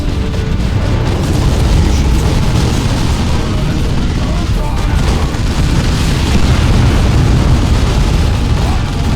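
Orcs open fire in a Dawn of War II battle, with dense, loud gunfire and booming explosions rolling on without pause for the whole stretch and no clear break in the din.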